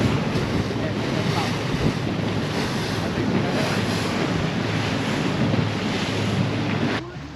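A RIB boat speeds across the harbor waves at Stavanger, a constant loud rush of wind, spray and hull noise with a low engine drone, holding steady before easing at the end.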